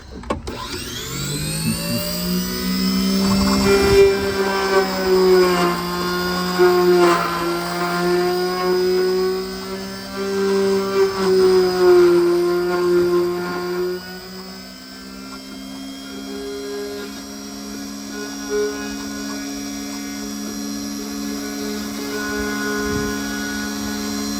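A key cutting machine grinds a Honda key blank, a steady high whining motor with a bright harmonic tone that rises as the cutter bites and shifts pitch while tracing around the blade, loud and continuous with no talk.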